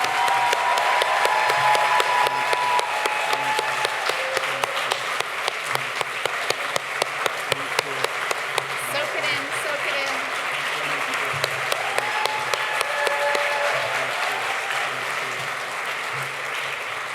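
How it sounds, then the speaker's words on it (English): Sustained applause from a crowd at an outdoor community block party celebration, dense steady clapping lasting the whole stretch with a few sharper individual claps standing out, and faint voices and cheers mixed in underneath. "I just want to have us all give him a big round of applause for his leadership"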